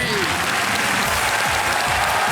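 Studio audience on the KBC game show bursts into steady, dense applause, loud and continuous throughout with no pauses.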